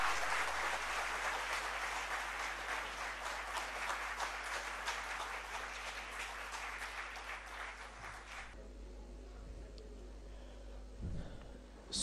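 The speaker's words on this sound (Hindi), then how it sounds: "डॉक्टर राजीव मेहता, जोरदार तालियों से उनका स्वागत करें।" An audience at a health awareness seminar welcomes a gastro doctor with sustained, loud applause for about eight seconds before it cuts off abruptly, leaving a quiet hum.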